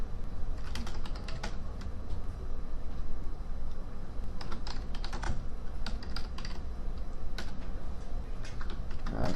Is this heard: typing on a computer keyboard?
yes